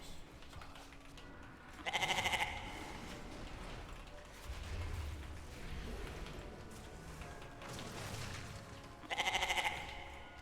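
A video-game goat from a World of Warcraft hunter bleats twice, short nasal cries a few seconds apart, heard over a low game background.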